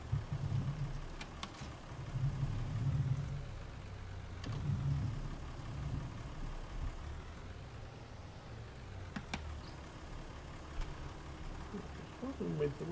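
A tractor engine runs steadily in Farming Simulator 19, a low, even idle-like hum with slight swells, heard faintly beneath a person talking.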